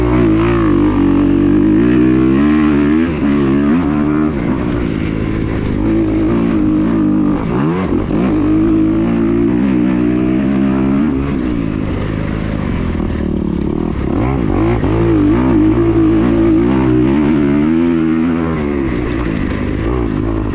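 A 2021 Kawasaki KX250X dirt bike rides a home motocross track, its engine note rising and falling continuously through revs and gear changes, loud and close throughout with no pauses.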